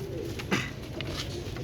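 Soft pigeon cooing in a steady low murmur, with a brief louder flutter partway through; no talking.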